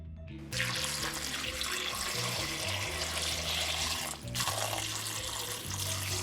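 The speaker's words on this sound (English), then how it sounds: "Now cover the beans back up with more water." Water gushes steadily from a tap into a pot of red beans, a continuous rushing stream with a brief dip partway through.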